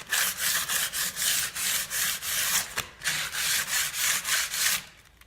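Repeated rhythmic back-and-forth scraping strokes on a pre-painted timber door frame, abrading the old paint to form a key, steady and close with one brief pause, no talk.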